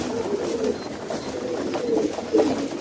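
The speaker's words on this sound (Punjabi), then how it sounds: "ਇਹ ਕਬੂਤਰ ਆ ਮੇਰੇ ਕੋਲ ਸਾਰੇ" Green-eyed Rampuri breeder pigeons coo in a loft, soft low throaty calls repeating close by over a steady background rustle.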